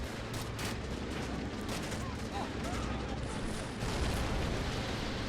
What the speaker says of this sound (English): Explosions from mortars and inland artillery.